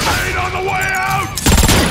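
Grenade explosion and gunfire in a Transformers battle scene, a loud rumbling blast with crackling debris bursting in near the end after a stretch of tonal whines and mechanical sound, with a voice shouting briefly.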